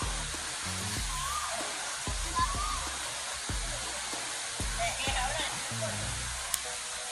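River water rushes in a steady, even hiss beside a riverbank, close and constant, with voices talking over it throughout.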